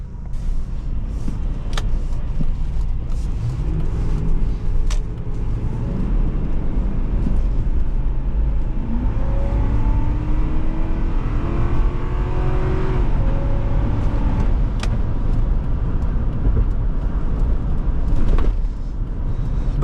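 A 2004 Ford Explorer with a 4.6L V8 drives along a road, its engine hum and road noise steady throughout, with rising shift tones and occasional bumps or clicks.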